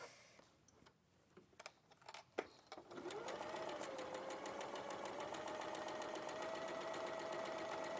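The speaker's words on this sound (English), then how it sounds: "So I'll just sew this one up here for you." A sewing machine joins fabric panels for a wildlife quilt: a few clicks and handling noises at first, then a steady, close, rapid mechanical whirring stitch that runs on evenly to the end.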